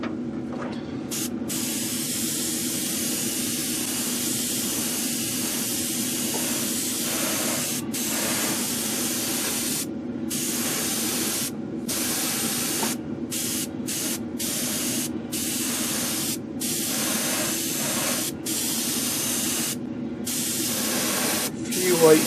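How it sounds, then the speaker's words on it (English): Super Chrome spray paint hissing from an aerosol can in a series of bursts separated by short pauses, close to the microphone, during a model build. "let's spray our Super Chrome"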